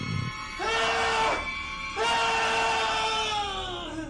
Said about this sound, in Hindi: अपने बैग पे हाथ रख के जोर से चिल्ला देता है